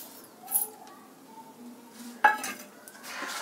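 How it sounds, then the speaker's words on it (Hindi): Sugar is added to milk boiling in a pot for sweet vermicelli kheer, heard as a few soft metallic clinks and scrapes of a utensil against the pot, with one sharper clink, over a quiet kitchen background. "पहले मम्मी जो है चीनी ऐड कर रही है दूध में।"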